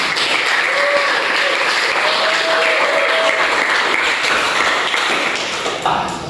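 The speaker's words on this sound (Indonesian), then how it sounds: "Oke, berikan aplaus." A class of teacher trainees at a university session claps together in sustained applause, a dense even patter of many hands that holds steady and then tapers off near the end.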